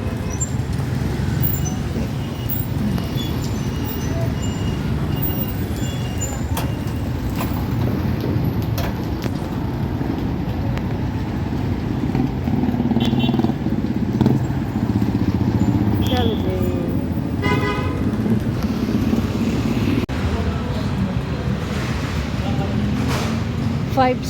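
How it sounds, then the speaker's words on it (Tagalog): Downtown street traffic in Pagadian City: a continuous rumble of cars, motorcycles and buses passing nearby, with voices mixed into the steady roadway din. "Traffic."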